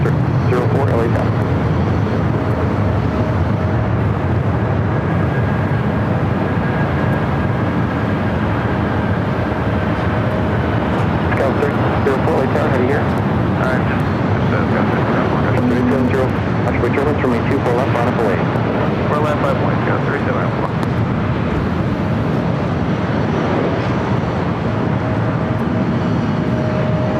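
A Boeing 767 jet airliner rolls toward runway 24 left at LAX, its broad, steady engine roar filling the scene loudly throughout, with radio chatter and talk layered over it.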